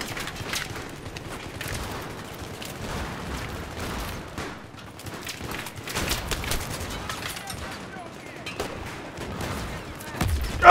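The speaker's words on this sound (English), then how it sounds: "Stop shooting me." Gunfire in the video game Battlefield 3, a steady stream of rapid shots and bursts at moderate level, with heavier booms mixed in and a sharp loud blast at the very end.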